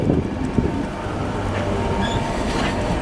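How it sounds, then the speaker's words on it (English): A Class 66 diesel freight train rumbles past nearby on the East Coast Main Line at Stevenage, with a steady broadband roar, faint wheel squeal and rhythmic rail clatter throughout. "just on the other side we've got a Class 66 GB rail freight train"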